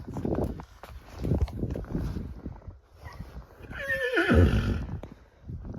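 A draft horse whinnies loudly and nearby, a rising and falling neigh following snorts and shuffling movement.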